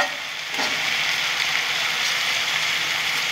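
Pieces of potato and taro frying in hot oil, a loud steady sizzle that swells after a brief quieter start and stays close and continuous.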